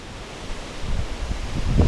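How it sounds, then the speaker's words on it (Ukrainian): Steady wind noise gusting and buffeting the microphone on a shore while spinning-rod fishing, building toward the end with low rumbling bursts. "Сьогодні вітер досить таки непоганий"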